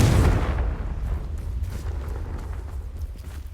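Confringo explosive spell in the game Hogwarts Legacy bursting with a loud, close boom at the start, then a deep rumbling decay with crackling debris fading over a few seconds.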